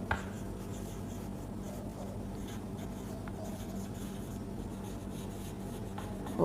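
Continuous scratchy marker or chalk strokes on a board during a sixth-grade English grammar lesson, steady and fairly faint against a low room hum, with no talking.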